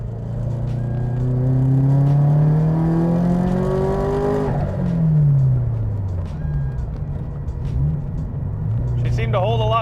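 A turbocharged Subaru BRZ on a test drive revs up through rising engine tones, eases off, then pulls again. The engine sounds close and fairly loud, heard from inside the car, and a voice is briefly audible near the end.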